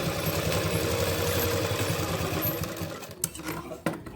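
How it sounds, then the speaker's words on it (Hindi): A sewing machine runs a pintuck seam along the folded fabric edge of a pant design. Its even, close mechanical whirring lasts about three seconds, stops, and is followed by a few sharp handling clicks. "इस तरह से हम इसको फोल्ड करेंगे और यहाँ पर जो हम दाब सिलाई बोलते हैं वो हमें लगानी है।"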